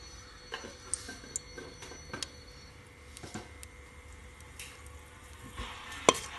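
Fenugreek seeds sizzling in hot oil in a pan, with a faint, irregular crackle of small pops and ticks scattered over a low hiss, a few sharper pops near the end.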